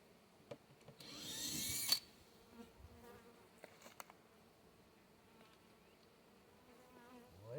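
A large honey bee swarm buzzes faintly outdoors during a swarm catch, with a louder, denser burst of buzzing near the start before the hum settles back to a low, steady drone.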